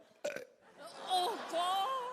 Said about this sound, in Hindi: तुम्हें डकार भी नहीं आता? मैं ले लेता हूँ।